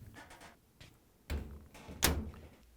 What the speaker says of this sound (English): And now we can close the door.